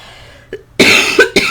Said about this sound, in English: I'm going to be coughing and throat clearing here a little bit